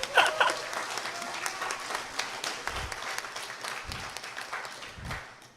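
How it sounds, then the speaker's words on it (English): Audience applause at an internship event of the Palau National Scholarship Board, steady dense clapping from a crowd sustained over several seconds, moderately loud with a few low thumps underneath. "Give them a round of applause"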